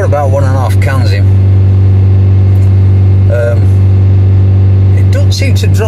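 A car engine held at a steady rev of about 3,000 rpm while its diesel particulate filter is cleaned with an aerosol spray, giving a loud, constant hum with a voice talking over it.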